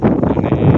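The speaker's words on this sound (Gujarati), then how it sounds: "તમને પવનનો અવાજ આવતો છે" Strong gusty wind buffets the microphone outdoors in a farm field as the weather turns before rain, a loud, continuous rumbling roar with no voices.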